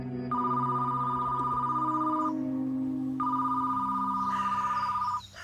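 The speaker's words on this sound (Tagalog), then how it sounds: "doon nagring ang phone ko." A phone rings close and loud in two long electronic trilling bursts separated by a short pause, with no talking over it.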